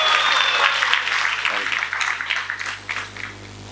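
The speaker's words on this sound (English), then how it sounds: "Give them an applause." Audience applause at an ISKCON temple lecture, fairly close and fading unevenly over a few seconds, mixed with some murmuring.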